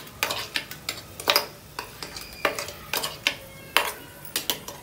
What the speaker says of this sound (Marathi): तर आता मी याच्यामध्ये वाटण टाकते